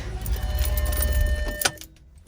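Keys jangle and rattle near the ignition of an Audi B7/B6 A4 or S4 before starting, ending in a sharp click followed by quiet.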